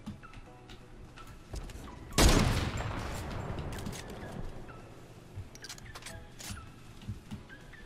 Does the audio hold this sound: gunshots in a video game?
yes